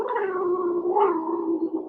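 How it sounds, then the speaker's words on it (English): A grumpy female cat gives a sustained, drawn-out meow that wavers in pitch, close and fairly loud, with no talking over it. "Oh yeah, you grumpy girl. You grumpy cat."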